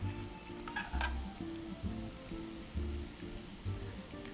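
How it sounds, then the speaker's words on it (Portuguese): Strips of beef fillet frying in a pan, a steady close sizzle with low bubbling and periodic bursts as the pieces shift, no voices over it. "Eu gosto de fritar ela separadinha assim, porque eu acho que ela fica com um sabor ainda mais gostoso."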